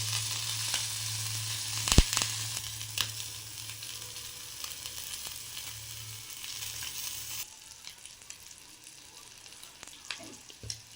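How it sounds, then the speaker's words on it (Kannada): Onion, tomato and coriander leaves fry in a pan, giving a close, steady crackling sizzle with a sharp clatter near the start, then easing to a quieter simmer in the last few seconds. "ಸಖತ್ತಾಗಿ ಫ್ರೈ ಆಗ್ತಾಯಿದೆ"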